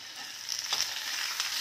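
Potato slices with red chili sizzle in a pan as they are stirred, a steady hiss of frying with a few soft scraping touches of the spoon, brief and close.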